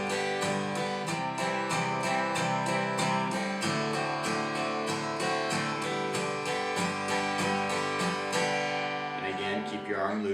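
Acoustic guitar strummed in a steady eighth-note pattern counted one-and-two-and-three-and-four, even rhythmic strokes played close and alone, with chords ringing out at the end.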